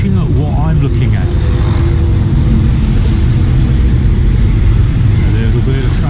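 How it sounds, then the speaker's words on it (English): Steady city street traffic in Davao City, Philippines, with many taxis: a continuous close engine rumble and passing vehicles, loud throughout, with a voice talking over it. "A little bit of traffic."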